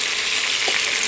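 Bell pepper beef rolls pan-frying, a dense continuous sizzle of hot oil, loud and close, with a brief soft clink partway through.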